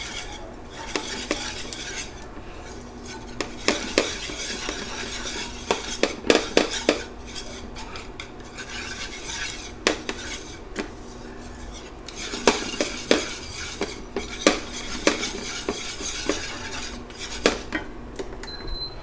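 A utensil stirs flour into melted butter in a pan to make a roux, producing irregular scraping and clinking strokes against the metal in bursts, with a faint sizzle underneath and no talking.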